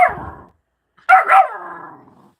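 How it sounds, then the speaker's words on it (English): A dog barks in a loud burst after a brief quiet, following an earlier fainter bark-like sound, with no talking over it. "what are you barking at?"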